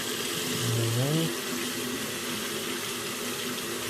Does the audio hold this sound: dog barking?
no